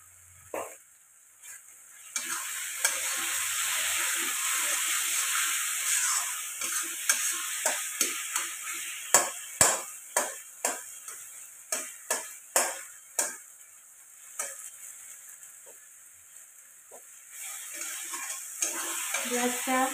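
Homemade masala for a dhaba-style kaju masala sizzles steadily in a pan, with a loud, continuous hiss. Repeated sharp scrapes and clacks of stirring run through it and grow more frequent toward the middle.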